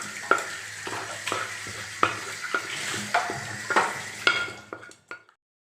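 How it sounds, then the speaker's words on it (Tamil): A spoon stirs fried onions into kuzhi paniyaram batter in a bowl, giving a string of close, wet scraping strokes with sharp clinks against the rim before it stops abruptly. "இதை நம்ம மாவில் சேர்த்து கலந்துக்கலாங்க."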